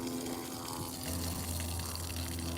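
Water runs steadily from a hose or tap outdoors for dogs to drink, a continuous gushing rush with a low pump-like hum and no break.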